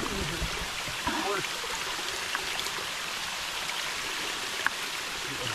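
Spring water gushes steadily from a large pipe on rural Philippine farmland, a continuous broadband rush with small splashy spikes throughout, close and fairly loud, with a voice briefly audible over it near the start.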